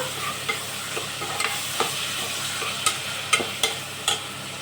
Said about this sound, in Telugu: టమోటా వేసి కొద్దిసేపు మగ్గనివ్వాలా